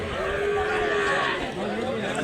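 A cow moos at a village cattle market where local cattle are being sold, a steady low call lasting a couple of seconds close to the recorder.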